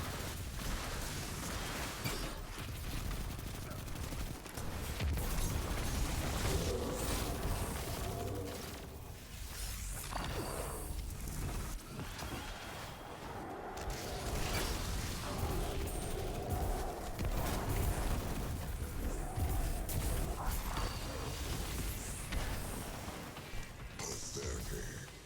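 Chains of explosions set off by kills in Destiny played as a Titan, booming blasts and whooshes stacking almost continuously at steady loudness for the whole stretch amid dense combat noise.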